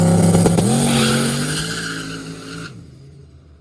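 A turbocharged F-body car on a street spins its tires, its engine roaring loud and close with a rising tire squeal, then the sound drops and fades out as the car pulls away.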